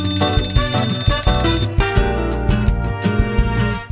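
A QTV palm-sized retro TV-style speaker sounds its timer alarm, loud repeated electronic beeping over a busy musical bed, with no talking.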